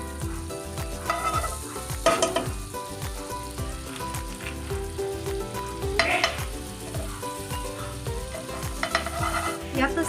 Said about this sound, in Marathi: तर 2 चमचे अमूल बटर घालणार आहे